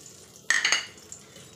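Whole spices dropped into hot oil in a wok give a brief sizzling burst that quickly fades to a faint crackle, close and alone.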